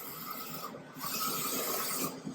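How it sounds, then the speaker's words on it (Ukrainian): Printer that prints and cuts T-shirt transfer images, giving a steady close mechanical rasping and rubbing as the cutter works, with a brief pause midway. "Цей принтер одразу е, друкує і вирізає зображення, що ви зараз і побачите."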